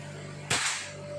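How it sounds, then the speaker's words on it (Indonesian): A PCP air rifle fires a single shot at a small hole target, one sharp close crack against a steady background hum, with no talk. "Kita mencoba beberapa kali tembakan, yaitu nembak target lubang."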